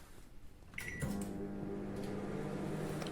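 A Samsung MG23K3515CSE1 microwave grill oven switches on with a beep and a click, then settles into a steady humming drone that continues at an even level.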